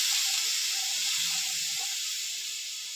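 Spices and turmeric sizzling in a pan with a little water while being stirred for a vegetarian aubergine curry, a steady close hiss that runs the whole time with soft stirring sounds beneath it.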